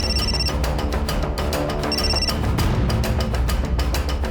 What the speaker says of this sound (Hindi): आप तो बस मौसा जी को फोन लगा रही हो ना